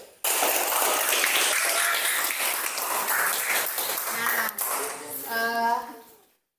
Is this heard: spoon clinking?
no